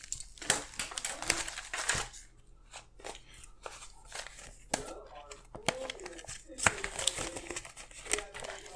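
Paper banknotes are handled and stuffed into cash envelopes, giving repeated close crinkles, rustles and soft snaps of paper, while a person talks quietly in the background.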